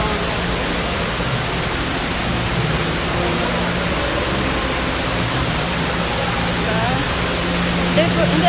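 Water of the Dubai fountain splashing and rushing in a loud, continuous roar, a broad steady wash of sound with a crowd faintly beneath.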